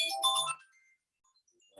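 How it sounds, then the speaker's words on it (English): A mobile phone sounds a short, bright electronic ringtone burst of bell-like tones for about half a second, then quiet follows. "my phone is ringing"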